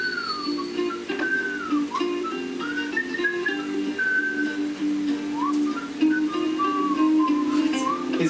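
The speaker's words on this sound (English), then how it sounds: "His whistling's out of sync with the music." Someone whistles a wavering tune over steady background music, the whistled notes gliding up and down and not quite matching the accompaniment.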